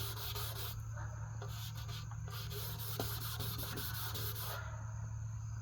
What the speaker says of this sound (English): I'm sanding in a cross drain pattern